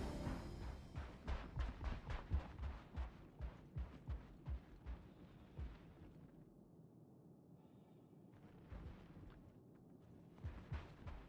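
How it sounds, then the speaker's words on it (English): Rapid bursts of gunfire in the video game Star Citizen, a dense run of sharp shots for several seconds, a pause, then a few more scattered shots, loud and without talk. "Yeah, I could hear the gunshots."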